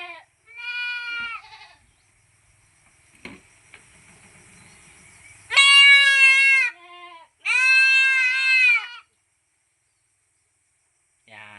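A goat bleats during deworming, when a slightly thick, water-thinned dewormer is squirted straight into its mouth. The bleats come in several loud, close bursts, separated by quiet gaps.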